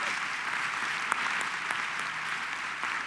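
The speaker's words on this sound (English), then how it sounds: "I think that deserves a little clapping" Audience at an annual meeting opening session breaks into steady, sustained clapping that fills the room evenly, with no voices standing out above it.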